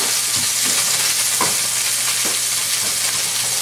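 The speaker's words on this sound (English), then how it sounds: "Now, we're going to give that a stir." Rhubarb cherry chutney with wine and cinnamon being stirred in a hot pan, a loud continuous sizzle with soft scraping strokes of the spoon, close and without talk.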